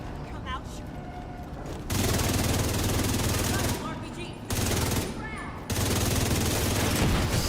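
Sustained machine-gun fire from a video game rattles in long, loud bursts broken by brief pauses, with a voice speaking over it.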